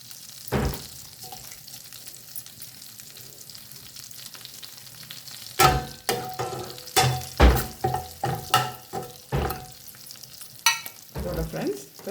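Onions and dried red chillies fry with whole spices such as cloves in hot oil. A low sizzle runs quietly at first, then a burst of sharp stirring scrapes and clatters from about midway, close by, with no voices.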